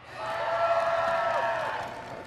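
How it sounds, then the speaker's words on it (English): A big convention hall audience at BlizzCon 2017 erupts in cheers and shouts for a Hearthstone card, a broad wash of voices rising quickly, sustaining, then fading. "All right, cheer for Magma Shock."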